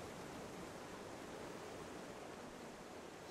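Steady, soft rushing of a waterfall in the Guild Wars 2 game world, an even broadband wash of falling water with no breaks, fairly faint and distant-sounding, no voices.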